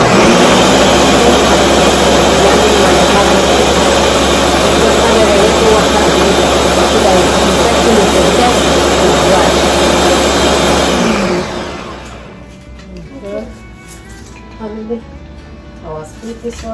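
A kitchen blender blending ukazi leaves for Igbo Nigerian vegetable soup gives a loud, steady motor roar for about eleven seconds, then cuts off, leaving quiet clinks and faint room sounds.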